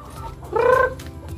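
A Rhode Island Red and Hubbard crossbreed chicken, about four months old and free range, gives one short, close, throaty cluck over a low background hum.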